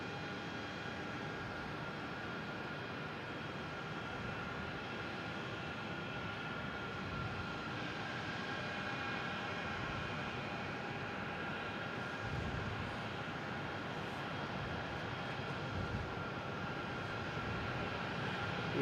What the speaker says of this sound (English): We have American Airlines E-175 taking off, heading to JFK.